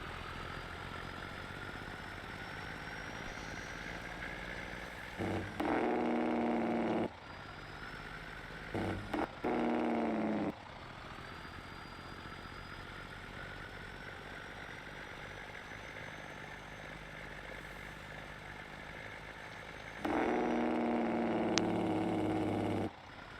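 A truck engine in Farming Simulator 19 idles with a low, steady rumble, interrupted by several louder revving bursts that rise and cut off abruptly.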